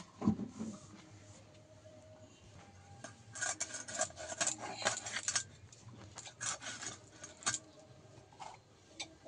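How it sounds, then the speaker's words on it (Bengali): Rupchanda fish being cut into long, large pieces with a knife: close, clattering metallic scrapes and clinks against a dish or board, bunching into busy flurries midway, with quieter gaps between. "এবার আমি পিস করে নেব, একটু লম্বা বড় বড় করে পিস করব।"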